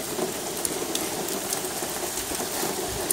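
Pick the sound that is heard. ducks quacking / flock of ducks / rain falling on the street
rain falling on the street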